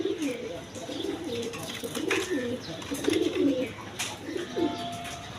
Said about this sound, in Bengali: ব্ল্যাক কালার ডেনিশ কবুতর দেখেন, ব্ল্যাক গোল্ড ডায়মন্ড, একদম কোয়ালিটি সম্পন্ন কবুতর।